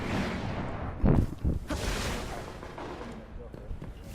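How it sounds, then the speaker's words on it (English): The Red Death pulse rifle in the Destiny video game fires in bursts, giving several booming, rumbly shots in a row, the strongest a little after the first second, while someone talks over the gunfire. "You need about three to four bursts with this, like to the head, to get a kill."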